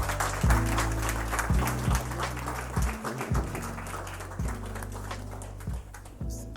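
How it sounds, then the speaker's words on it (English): An audience gives a warm round of applause welcoming a DJ onto the stage, sustained clapping over a steady pulsing bass beat of music playing underneath. "Let's give a warm round of applause to"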